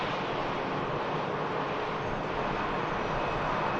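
An Aer Lingus airliner taxis at Manchester Airport, giving a continuous close engine roar that stays level the whole time without talk.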